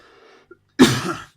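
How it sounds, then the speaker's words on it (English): A single loud, harsh cough bursts out close by after a faint murmur and a small click. "Coughing there, one sec."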